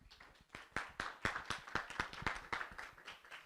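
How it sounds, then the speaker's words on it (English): A small audience at a Sacramento startup pitch gathering claps in a rhythmic, fairly sparse round of applause, individual hand claps distinct and evenly paced, quiet and close. "big round of applause for Lataya"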